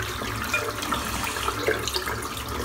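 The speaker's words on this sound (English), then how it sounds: "Rinse the soap off." Running tap water rinsing soap from a boar-bristle shaving brush, a steady close splashing hiss of flowing water with small gurgles, moderately loud and without speech.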